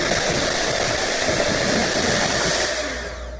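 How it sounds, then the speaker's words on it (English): Electric hand mixer beating runny, yellowish cookie icing in a bowl, a steady loud whirring drone held throughout and easing off slightly near the end, with no talking. "We're gonna actually mix this for 3 to 4 minutes, and supposedly it's gonna get a lot whiter."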